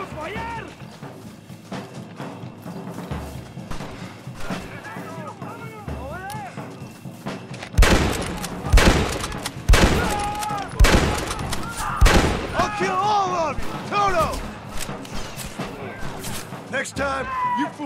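Bolt-action rifle shots in Red Dead Redemption, loud sharp cracks fired every second or so amid other gunfire and game sounds, with someone talking over the action.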